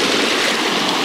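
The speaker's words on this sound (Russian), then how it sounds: "вы пока слушаете шум моря" Sea waves rushing on the shore at Anapa on the Black Sea coast make a loud, continuous broadband wash with no break, and no voices are heard.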